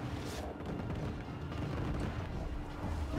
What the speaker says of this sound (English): Quit shooting cannons at me.